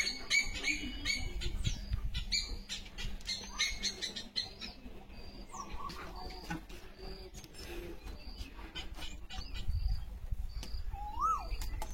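Outdoor birds call intermittently in open farmland, with short chirps and squawks scattered over low background rumble and occasional faint voices.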